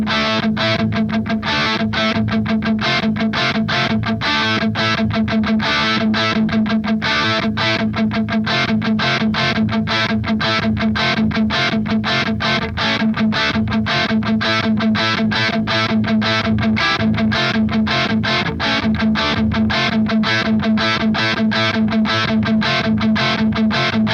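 Electric guitar played through the crunchy channel of a Revv amp with the bright switch engaged, mildly overdriven, steady rhythmic strumming throughout with no talking.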